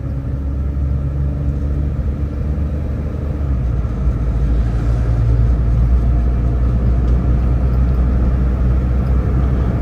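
A Suzuki Alto converted to a 660cc automatic drives smoothly on the road. A steady low engine and road rumble from inside the cabin holds at an even level throughout, without talk.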